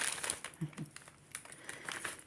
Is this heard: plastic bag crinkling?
yes